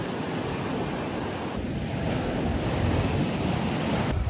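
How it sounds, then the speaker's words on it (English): Surf breaking along Nacpan Beach in Palawan, a continuous broadband roar of waves with wind buffeting the microphone, swelling slightly louder toward the end, no voices present. "hearing the waves"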